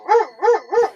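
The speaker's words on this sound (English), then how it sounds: "Master Lee's attack dog says yes" A dog barks three times in a steady, even rhythm, each bark loud and close with a slightly whining, rising-falling tone and no talk around it.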